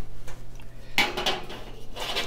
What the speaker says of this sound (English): Put them in the oven